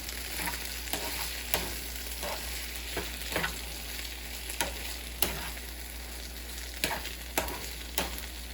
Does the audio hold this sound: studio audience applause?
no